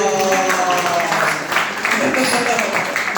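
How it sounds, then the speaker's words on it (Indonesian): Audience applause at a motivational training seminar, a steady crowd clapping under background music with sustained tones, moderately loud and continuous, dipping briefly midway before picking up again. "tepuk tangan dong"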